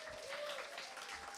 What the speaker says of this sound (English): thank you so much for the round of applause